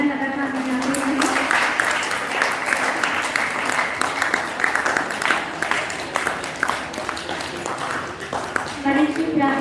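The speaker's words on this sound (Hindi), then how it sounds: "विद्यार्थियों से अनुरोध है कि वे तालियां लगातार बजाते रहें" Students clap continuously at a hawan ceremony, a dense steady patter of applause running throughout, with a voice making announcements over it at the start and end.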